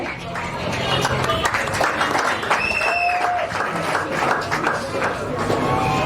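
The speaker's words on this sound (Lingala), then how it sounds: "C'est sous vos applaudissements aussi, s'il vous plaît" Applause from an audience at an anniversary celebration in Kimbanseke, a dense, steady wash of clapping lasting throughout, with crowd voices and chatter mixed in.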